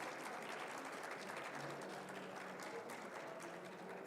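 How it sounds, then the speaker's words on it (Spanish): Applause for a speaker at a nursing event, a steady, moderately dense clapping that continues evenly for the whole stretch. "Un aplauso, por favor"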